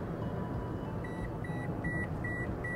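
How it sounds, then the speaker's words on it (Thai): A 2023 Toyota Yaris Hatchback Premium sounds its lane departure warning, a series of short, evenly spaced electronic beeps repeating about every half second over steady cabin road noise. "ซึ่งเป็นสัญญาณเตือนเฉยๆไม่มีการหน่วงพวงมาลัยกลับนะเนี่ย"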